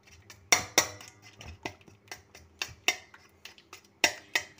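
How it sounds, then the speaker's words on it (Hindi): Spoon clinking against a bowl while mayonnaise and cream are mixed, sharp close metallic taps in an uneven rhythm, about a dozen hits over a few seconds, no talk. "अब हम इसे अच्छी तरह से मिक्स करेंगे।"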